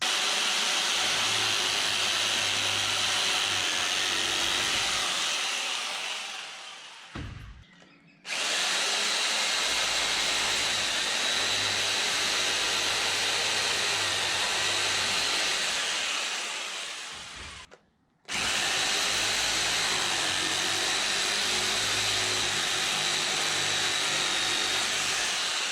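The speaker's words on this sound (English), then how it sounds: "just cutting all the edges of the slats where new ones are going to join up to, just to make them a bit cleaner" A power saw cuts the edges of wooden floor slats during shearing shed repairs on an Australian farm, making a loud, steady high-pitched whine in three long cuts of several seconds each, separated by brief pauses and with no talk.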